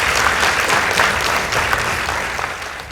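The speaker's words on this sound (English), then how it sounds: "Please give them a round of applause." Steady applause from a school debate audience, dense clapping that holds evenly for the whole stretch with no talk over it.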